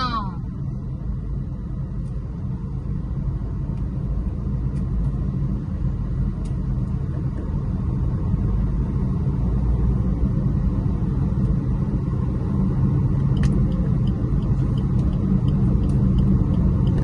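A car cruises along a one-way road at midday, its engine and tyre rumble forming a steady, close, low drone that continues throughout with slight swells.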